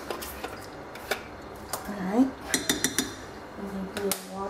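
A spoon or spatula scrapes and clinks against a container as salsa is scraped out, a string of uneven taps and scratches up close, with a brief spoken word.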